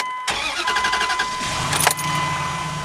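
A truck engine cranks with a quick rhythmic starter churn for about a second, then catches and settles into a steady idle, heard close up with a brief rattling burst partway through.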